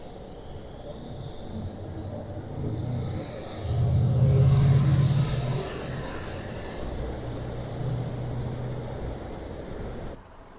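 An American pickup truck with a large, powerful engine drives steadily, its low engine rumble and road noise continuous throughout, swelling briefly louder midway before settling back to a constant drone.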